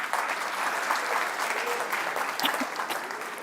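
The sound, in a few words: audience applause for a student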